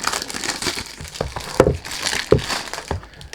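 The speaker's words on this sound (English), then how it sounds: "Sorry about the noise when you do unboxing," Crinkling and crackling of perfume packaging being unboxed, with a few sharper crunchy snaps standing out over a steady rustle, close by.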